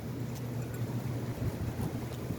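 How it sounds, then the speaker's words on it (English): Strong wind whips up outdoors, buffeting the microphone with a steady low roar and rumble, close and constant, with no talking. "the wind just whipped up something terrible here"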